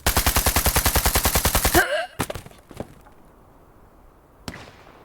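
A rapid burst of automatic gunfire, a steady volley of about twenty evenly spaced loud shots, followed by a few scattered single shots and a lone distant crack, with no voices, in a wartime battle scene involving a machine gun nest.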